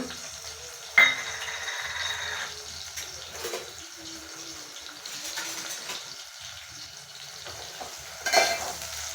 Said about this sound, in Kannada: ಈರುಳ್ಳಿ ಚೆನ್ನಾಗಿ ಫ್ರೈ ಆಗಲಿ